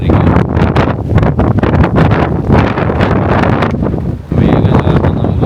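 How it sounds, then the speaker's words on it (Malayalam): Strong, loud wind buffets the microphone on a cold night trek up Kalsubai mountain, roaring steadily with gusty surges, a brief lull, then a renewed blast. "കാറ്റെന്ന് വെച്ചാൽ ഭയങ്കര കാറ്റ്"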